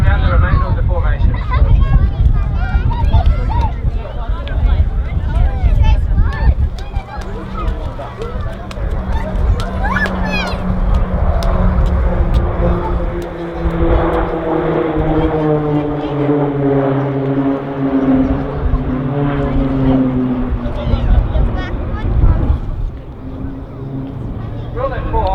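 RAAF Roulettes Pilatus PC-9A aircraft fly a formation display at RAAF Base Point Cook, their steady engine drone rising and falling in pitch as the team passes, heard under continuous public-address commentary and crowd noise.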